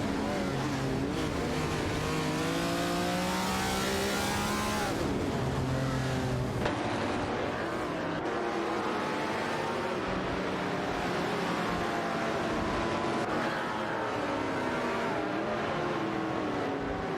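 Race car engines from an AI racing video game rev and whine in steady overlapping sweeps, loud and continuous throughout with no talking.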